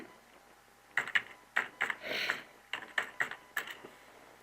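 Typing on a computer keyboard while setting up a radio player on a Blogspot page, with close, crisp key clicks in quick irregular clusters and short pauses between them, and no talking.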